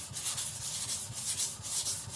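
A Victorinox Chinese cleaver is stroked back and forth across an abrasive stone, producing rhythmic gritty rasping scrapes, roughly four passes a second, close and steady without any talk.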